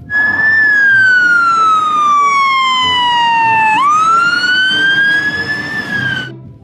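A loud electronic toy fire truck siren wails up and down in a single sweeping cycle, close by and alone, ending abruptly.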